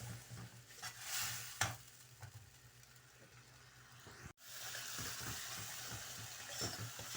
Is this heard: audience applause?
no